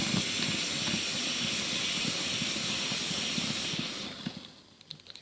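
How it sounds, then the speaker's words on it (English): Steady, loud steam hiss pours continuously from the holes of a Primus ETA Lite camping stove, then tapers off into quieter sputters near the end. "you can see the steam escaping from the holes there"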